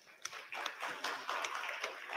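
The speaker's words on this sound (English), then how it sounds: "please join me in a round of applause." A small conference audience at a tourism marketing panel gives scattered, quiet clapping, sparse irregular hand claps spread across a couple of seconds.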